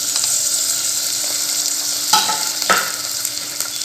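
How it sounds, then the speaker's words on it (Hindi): Onions sizzle and fry in oil in a cooking pot while liver is being made, a steady hiss throughout with two brief sharper crackles partway through; no speech. "प्याज डालूंगी इसमें।"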